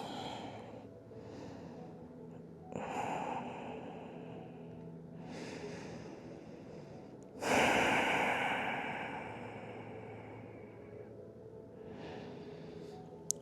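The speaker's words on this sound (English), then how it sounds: "Breathing into that opening left side." Slow, deep breaths held in a yoga pose during a long chakra-focused session, several airy inhales and exhales close to the mic, one louder rushing exhale midway, with no talking.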